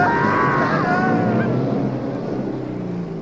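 A motorcycle tears away at full throttle in a radio drama effect, a loud whining engine note climbing then fading into a rushing drone as it speeds off.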